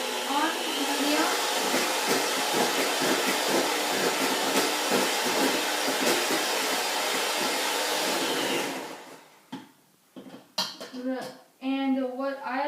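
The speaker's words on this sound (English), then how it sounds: "You need to beat it for 2 minutes on medium." Electric hand mixer beating chocolate cake batter on medium speed, a steady loud whirring drone for about nine seconds that then cuts off, leaving quieter scraping and clatter.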